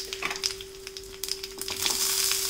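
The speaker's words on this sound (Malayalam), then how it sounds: "ചുവന്നുള്ളി എല്ലാം ഇട്ട് മൂപ്പിക്കാം." Shallots fry in hot oil for egg curry, a soft, steady sizzle with faint crackles and a few light stirring scrapes, close by and fairly quiet.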